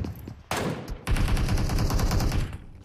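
Gunfire in a tactical shooter video game during a competitive Livecraft match, heard as a loud sustained burst of shots with an earlier sharp shot, close and dense, with no talking.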